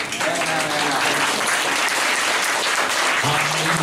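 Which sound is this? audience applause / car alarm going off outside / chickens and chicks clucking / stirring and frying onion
audience applause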